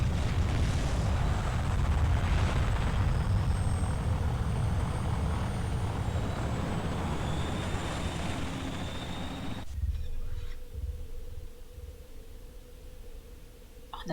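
Aircraft engines roar loudly and steadily in a Warzone 2100 real-time strategy battle, a dense droning rumble that cuts off abruptly near the end into a quieter low hum with a faint tone.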